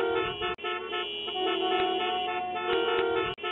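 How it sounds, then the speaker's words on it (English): Vehicle horns honking in traffic, a continuous loud blare with several overlapping horns and short breaks between blasts. "So the horns blown by vehicles are noise."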